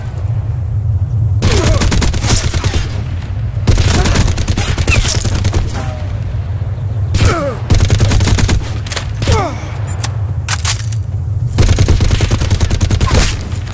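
Rapid bursts of automatic gunfire crack through a Call of Duty Black Ops 4 firefight, dense volleys of shots repeating in clusters over a steady low rumble, loud and close throughout.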